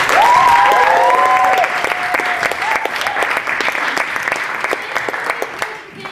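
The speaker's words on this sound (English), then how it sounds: "So give them a round of applause" Loud audience applause at a live comedy show, dense and sustained, gradually tapering off, with a few cheering voices mixed in near the start.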